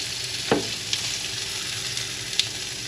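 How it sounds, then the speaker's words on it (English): Steaks sizzle steadily on a grill as they are flipped, a constant close frying hiss broken by a few sharp crackles and one brief knock of the turning. "that's the sizzle of love"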